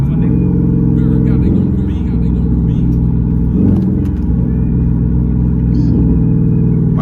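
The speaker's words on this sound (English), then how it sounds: "Like those little exhaust pops," Dodge Charger with straight pipe exhaust idling in eco mode, a loud close deep rumble with a few faint crackling pops and brief blips throughout.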